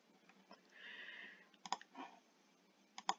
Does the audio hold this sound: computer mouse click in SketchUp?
yes